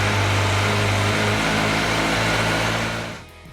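A Kawasaki Ninja 1000SX motorcycle engine runs loudly and close with a steady droning hum, then drops off and falls quiet near the end.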